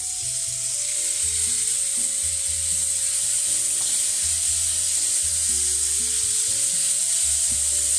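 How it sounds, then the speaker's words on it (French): Tomatoes are poured into a pan of browning onions and endives, setting off a loud, steady sizzle with soft stirring, with background music underneath. "quand il commence à prendre de la couleur, vous versez les tomates"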